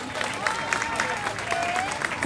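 Brief, moderate clapping from an audience at a civic assembly held on a rainy day, with murmured voices beneath the applause.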